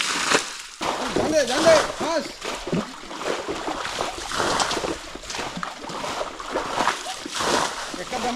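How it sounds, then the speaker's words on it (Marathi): Water splashes and sloshes repeatedly as it is scooped and thrown out of a pond pool during traditional summer fish catching in Konkan, with people talking over the splashing. "तर हे पाणी उपसत राहावं लागतंय"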